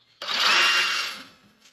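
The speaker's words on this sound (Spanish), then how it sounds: "con el taladro, con la broca de 35, hacemos el huequillo con cuidado" A power drill with a 35 bit whirs up for about a second, a bright high whine that winds down and stops.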